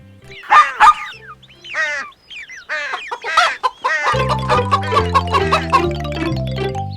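A hen clucks in quick, uneven bursts with high cheeps mixed in, and a steady droning musical tone joins partway through and continues.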